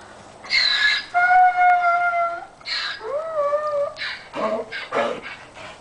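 A donkey at feeding time brays and whines in a series of loud, close, rising and falling tonal calls, several cries in a row with short breaks between them.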